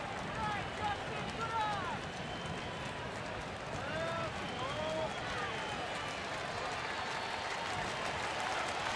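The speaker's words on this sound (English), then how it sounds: "Crowd coming alive a bit here now." A baseball stadium crowd at a Minnesota Twins at Milwaukee Brewers game rises into a broad, sustained murmur and cheer, heard under a commentator's talk.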